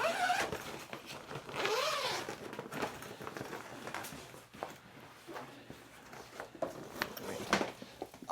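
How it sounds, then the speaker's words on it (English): A zipper being drawn open on a fireproof fabric enclosure for a Creality Ender 3 printer, a close raspy zip followed by quieter rustling and handling noises. "unzip your enclosure."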